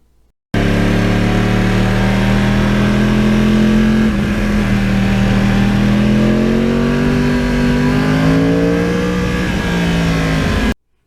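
A loud Yamaha R1 crossplane motorcycle engine revs hard and continuously through a straight-through exhaust, its pitch rising and falling in long sweeps, close by, with no talking.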